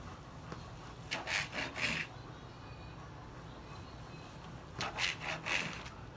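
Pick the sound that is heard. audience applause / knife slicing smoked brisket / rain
knife slicing smoked brisket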